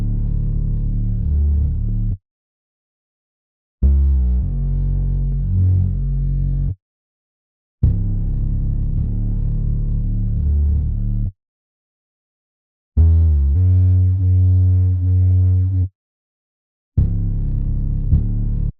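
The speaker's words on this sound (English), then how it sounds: "and then I got this is the final bass." A distorted, heavily EQ'd synth bass for an R&B beat plays alone in four loud, low, sustained phrases separated by short silences.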